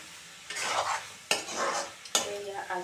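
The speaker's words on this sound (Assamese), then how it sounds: "চব্জি মছলাখিনি দি অকণমান ভালদৰে লৰাই চব্জিখন উলিয়াই থৈ দিম" Broccoli being stirred with vegetable masala in a pan, a spoon scraping through it in three distinct strokes over a soft sizzle, close and moderately loud with no voices.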